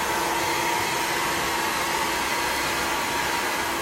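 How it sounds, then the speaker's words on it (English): A hair dryer blows steadily and loudly throughout while a curly layered bob is being cut and styled, a constant close-up whoosh with a faint high whine and no speech. "how you stand with the dryer"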